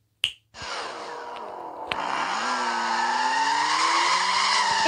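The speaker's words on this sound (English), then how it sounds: "I'm going to have to add some car sound effects." A sharp snap, then a continuous engine-like whine that rises and holds, like a car sound effect revving steadily, in Roblox.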